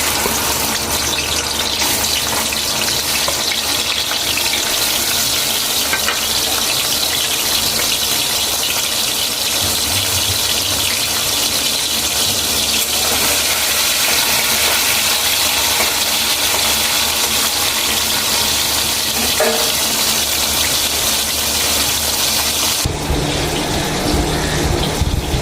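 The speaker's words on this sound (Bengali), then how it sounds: "তেল গরম হয়ে গেছে, এবার চিংড়ি মাছগুলো ছেড়ে দিচ্ছি।" Prawns dropped into hot oil for a potol-and-prawn curry sizzle with a loud, dense, steady crackle and hiss that fills the whole stretch, with no talk, before ending abruptly near the close.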